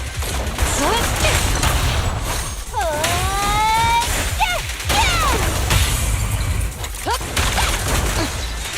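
Sustained gunfire in the action game Zenless Zone Zero, rapid loud bursts and impacts layered with sweeping whooshes and mechanical effects, continuing for several seconds.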